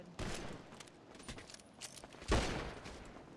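Gunfire in the video game GTA V on a FiveM roleplay server, irregular bursts of shots at moderate distance with one louder, closer burst near the end amid quieter background clatter.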